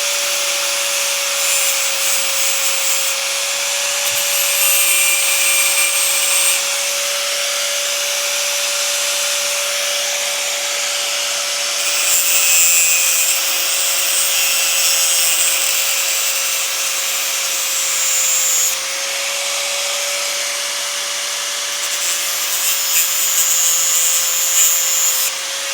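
A power tool cuts wedge-shaped grooves into the top of holes in a clamp's moveable jaw. It makes a loud, continuous high whine with a steady pitch, and the grinding rises and eases slightly at a few points. No one speaks.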